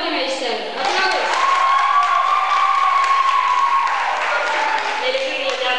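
Audience applause at a 2004 school show in Paldiski, a steady wash of clapping and crowd noise that swells and holds for several seconds, with a tonal sound running through the middle.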